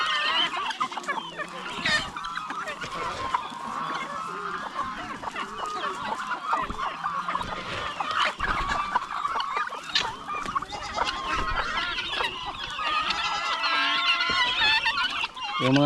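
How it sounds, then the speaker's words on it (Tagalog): Chickens on a rural Philippine farm cluck and squawk continuously, mixed with goose-like honks, several birds close by in a busy, overlapping chorus with no talk. "May mga manok pa tayo doon sa kabilang bakod."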